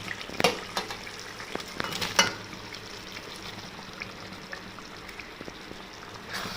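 Soft sizzling of soya chunks frying in oil, with a few sharp clinks of a utensil against the pan early on, then quieter steady frying.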